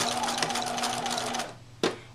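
A sewing machine stitches in a fast, even mechanical whir for about a second and a half, then stops with a single sharp clunk near the end of the seam.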